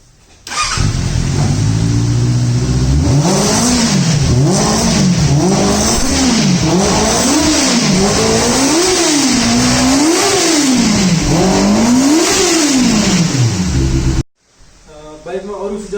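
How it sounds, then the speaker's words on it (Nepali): A Benelli TNT600i motorcycle with an inline-cylinder engine revs loud and close in repeated rising-and-falling bursts, about seven throttle blips in a steady rhythm. The engine then cuts off abruptly near the end, leaving faint background noise. "सो इनलाइन सिलिन्डरको एउटा मुख्य विशेषता भनेको चाहिँ साउन्ड नै हो, जुन चाहिँ तपाईहरुलाई म सुनाउन गइरहेको छु"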